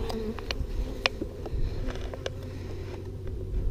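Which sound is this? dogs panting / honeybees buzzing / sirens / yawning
honeybees buzzing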